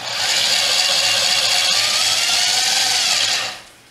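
A power drill turning a threaded rod lead screw on a homemade barrel rifling machine whines steadily at high speed, loud and close, running continuously for several seconds before winding down at the end.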